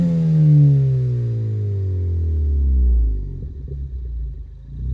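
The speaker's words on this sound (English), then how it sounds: "So I'm gonna do a little startup for you guys so you can hear what this sounds like." A 2014 Ford Focus ST four-cylinder hot hatch fitted with an FSWER exhaust starts up, heard from inside the car: a loud cranking catch, then a steady idle drone that settles lower with a slight rough pulsing toward the end.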